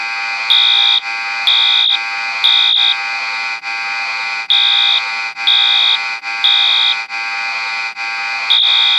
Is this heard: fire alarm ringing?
yes